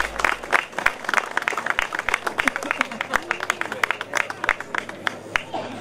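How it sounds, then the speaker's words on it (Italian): Audience clapping at a Notte Bianca open-air music event with brass players, sharp individual claps forming a loose, irregular rhythm, close and fairly loud, while voices murmur underneath. "Un applauso perché è molto puntuale il nostro amico"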